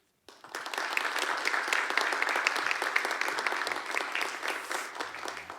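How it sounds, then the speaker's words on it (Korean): Dense applause from a church congregation welcoming a seminary president to the pulpit at an Easter-season dawn prayer service, starting abruptly and holding steady and loud for several seconds. "여러분 각 가정에서 큰 박수로 환영해 주시길 바랍니다."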